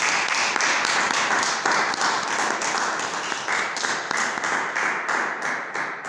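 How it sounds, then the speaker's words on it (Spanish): Church congregation applauding loudly and steadily throughout during a service, a dense continuous wash of many hands clapping. "Un fuerte aplauso a nuestro Señor Jesucristo, amén."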